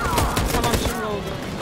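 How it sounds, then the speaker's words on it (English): A machine gun fires in the Detroit: Become Human game, a rapid rattling burst of loud shots in a chaotic combat scene, with voices calling out over the noise. "That machine gun is taking down everything that moves!"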